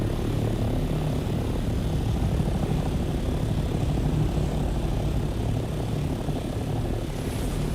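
Continuous droning rotor and engine noise of a helicopter in the video game Dune Awakening, steady and fairly loud throughout.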